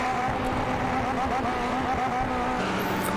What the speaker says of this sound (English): Oh, he's on the rev limiter.